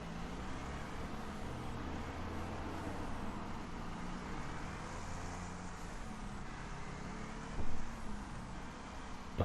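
Big rig trucks racing on a tight track in the game Wreckfest, with a steady, dense engine drone and road rumble throughout and a brief louder hiss or impact near the end, with no talking.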